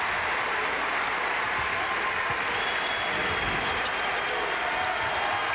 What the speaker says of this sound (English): Now the crowd coming to their feet, trying to get the Sooners back in it.